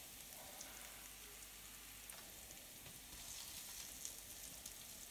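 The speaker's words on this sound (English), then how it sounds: "Everything's sizzling down nicely." Squid frying in a hot pan sizzles and crackles, a quiet, steady hiss with scattered pops and no voices.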